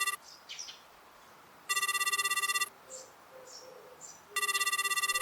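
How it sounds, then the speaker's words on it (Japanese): A telephone rings with an incoming call in two loud electronic bursts separated by a pause, while faint bird chirps sound in the background between them. "あれ、メタン先輩から電話なのだ"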